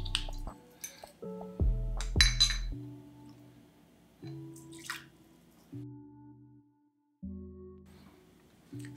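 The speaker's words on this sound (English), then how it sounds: "So in a cocktail shaker, we're gonna pour 3/4 ounce of vodka." Vodka poured into a cocktail shaker while mixing a Long Island Iced Tea, with short glassy clinks, trickles and drips in several separate bursts separated by quiet gaps.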